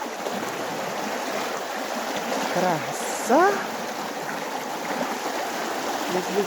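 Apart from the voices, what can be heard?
water rushing and flowing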